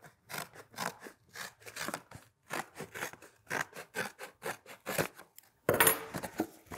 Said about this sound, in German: Und jetzt könnt ihr dann schon weiterarbeiten mit der Schere.